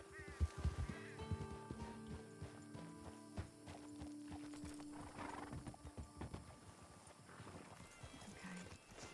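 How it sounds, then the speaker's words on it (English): Horse hooves clop in an uneven walking rhythm with a brief whinny in a Red Dead Redemption 2 roleplay server, faint and game-like, with no talking. "I'm putting my horse in the barn."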